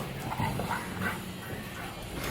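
Dogs barking and yipping some distance away, a continuous, muffled chorus against background noise outdoors.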